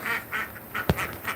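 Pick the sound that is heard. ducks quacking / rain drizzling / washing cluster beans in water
ducks quacking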